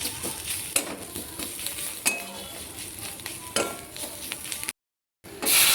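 Maggi masala being stirred in a pan, with scraping and clinking of a utensil against the metal over a faint sizzle, irregular strokes, briefly cut off near the end.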